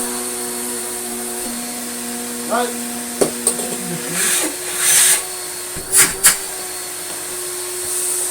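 A vintage Electrolux Slimline Mk2 vacuum cleaner hums steadily while the hose adds whooshing suction bursts; a voice speaks briefly over it.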